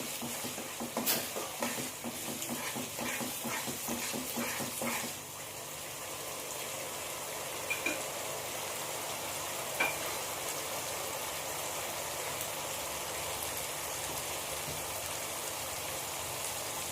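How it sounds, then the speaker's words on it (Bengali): Chopped tomato cooks with spices in a pan for a chicken tandoori gravy, with several seconds of stirring and scraping at first, then a low, continuous sizzle alone. "আবারও আমি মশলার সাথে ভালো করে টমেটোটা কষিয়ে নেব।"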